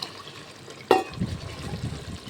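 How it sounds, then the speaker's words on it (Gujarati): Water is poured into a pot of tempered, seasoned rice, a sudden splash followed by a short gurgling pour that settles into a soft bubbling wash. "3 કળશી જેટલું આપણે પાણી નાખશું."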